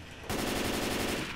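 Rapid automatic gunfire in the zombie shooter game Left 4 Dead 2, a dense continuous burst of loud shots starting abruptly after a brief quieter moment and running to the end.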